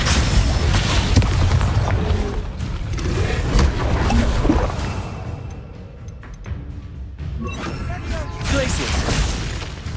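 Hogwarts Legacy Confringo fire spell going off in a video game, with booming blasts and crackling debris in a busy mix, some quieter gaps, and talk mixed in.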